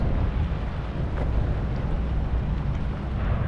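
Steady wind blowing by the sea at Birzebbuga harbour in Malta, with boats and sailing nearby; a continuous loud low rumble of wind buffeting the microphone throughout, with no voices.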